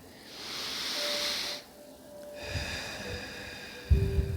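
Slow, deep breathing during a guided relaxation, with a long airy inhale followed by a quieter exhale and a breathy release near the end, close and alone.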